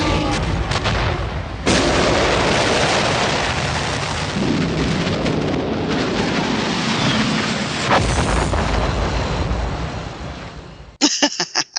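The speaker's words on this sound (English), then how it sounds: "Oh, and the final thing, the Death Star explodes." A huge, sustained explosion effect from the Death Star blowing up, a long roaring rumble with crackling debris that swells and fades before a few sharp closing bursts.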